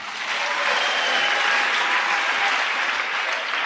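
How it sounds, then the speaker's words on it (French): Church audience in Hazyview, South Africa applauds a volunteer, a dense, steady burst of clapping that stays loud throughout. "applaudissez le volontaire"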